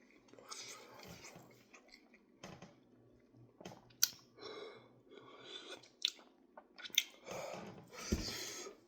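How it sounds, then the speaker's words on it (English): Close, wet chewing of mole de pollo made with mole negro, habanero white rice alongside, mixed with heavy, wheezy breathing and small clicks of the mouth, in irregular bursts across the stretch. "And anytime I'm breathing heavy like that while chewing,"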